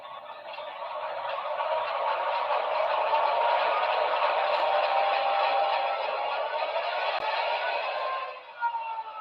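A model train locomotive's sound unit powers up, giving a steady droning rumble that holds for about eight seconds and then dips briefly near the end.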